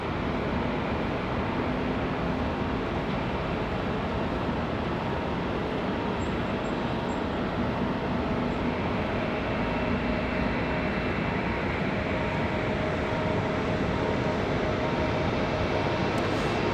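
A FedEx feeder aircraft arriving at Raleigh-Durham airport, heard as a steady broadband engine roar with a low rumble that holds constant throughout, distant to moderate in level, with no talking.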